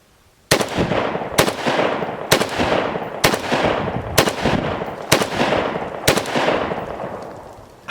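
Century Arms BFT 5.56 AK-47 rifle firing seven sharp, evenly spaced shots about once a second, each crack loud and close with a short decaying ring after it, no talking.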